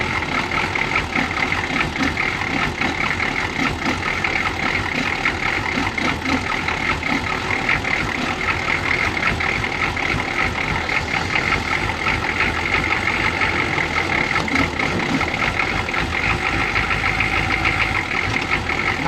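A 1983 Chevy G20 van with a 6.2L Detroit Diesel engine runs continuously in reverse, a steady rough knocking diesel clatter with a loud, constant drone throughout, heard up close and alone.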